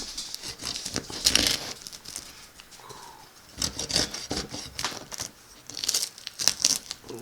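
A knife saws through the crisp crust of bread baked in a Dutch oven over charcoal, giving several crackly, crunching bursts separated by short pauses, close and distinct.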